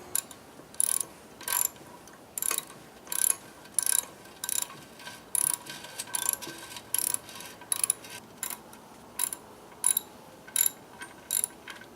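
Rapid clicking bursts of a hand ratchet loosening the mounting bolts on a toilet tank, repeated short strokes in an uneven rhythm, close and fairly quiet.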